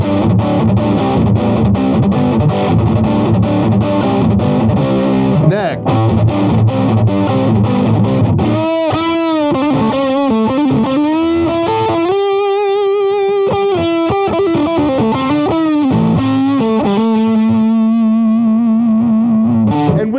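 A Greg Koch Gristle 90 electric guitar with both pickups on plays heavily distorted chords, then sustained distorted single notes and bends ring out loud and continuous.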